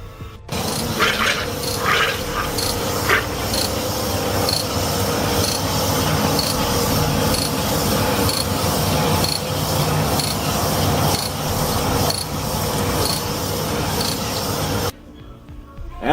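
Cylinder hone grinding inside a piston bore of a 4G63T engine, a steady loud abrasive whir and scraping that runs continuously for about fifteen seconds, then cuts off abruptly near the end.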